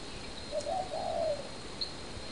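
Near a nest holding a fledgling, an adult bird gives a few soft, close cooing calls in a short burst, followed by one brief higher chirp against a quiet outdoor background.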